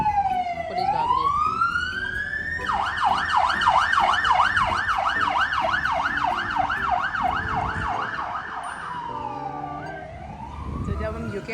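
A police siren wails past near a police station, its rising-and-falling electronic tone loud and steady for several seconds before sweeping away, with traffic noise beneath.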